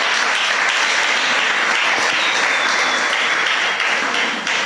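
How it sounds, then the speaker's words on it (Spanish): A church congregation claps loudly for the Lord during a Spanish-language sermon, a thick and continuous wash of hands that fades slightly at the end. "¿Cuánto le da un fuerte aplauso al Señor?"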